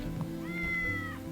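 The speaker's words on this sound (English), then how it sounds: "Literally, they're rabbits that go meow" The cat rabbits in the Braid puzzle platformer let out a single clear, drawn-out meow over a low steady game hum, with no talking.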